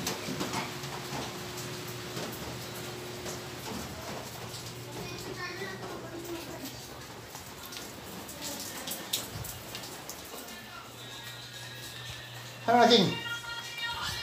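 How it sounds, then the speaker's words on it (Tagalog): Soft, steady rain patter with scattered drops, while voices talk intermittently in the background and a brief louder knock sounds near the end. "Nabalik na naman ang ulan."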